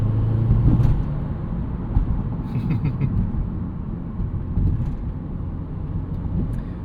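A 2014 Subaru WRX hatchback with a 5-speed manual, turbo boxer engine, high-flow downpipe and stock exhaust drives along in a subdued, steady low rumble heard from inside the car, with slight swells and faint clicks.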